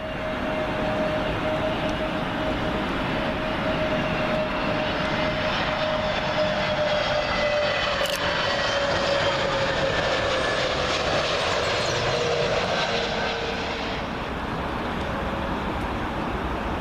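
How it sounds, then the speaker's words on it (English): A Scandinavian Airbus A320neo from Copenhagen comes in to land at Heathrow, its loud engines giving a continuous rushing roar with a steady whining tone that slowly drops in pitch as it passes close by. "Up next for you all, Scandinavian A320neo. This one from Copenhagen."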